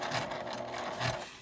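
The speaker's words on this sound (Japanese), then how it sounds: "開いて端ミシンをかけます" A sewing machine runs steadily as it edge-stitches an opened seam on fabric for a toilet paper holder. The whirring is close and continuous and is heard alone.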